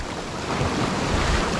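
Big sea waves churn around boats at sea, a loud, rough rush of water and wind noise buffeting the microphone, with no voices.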